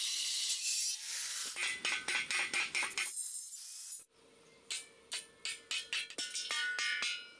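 A cutter working around a marked round hole in square metal pipe. Loud continuous grinding gives way to a series of short rhythmic rasping strokes, then a pause, then more regular strokes and a final sustained grind.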